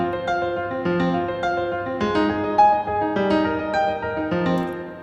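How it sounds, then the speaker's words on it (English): Steinway piano part played in Logic Pro, a lively run of clear repeated notes and chords at a brisk, even pulse, close and sustained with no voices. "but it's the same piano, Steinway piano too."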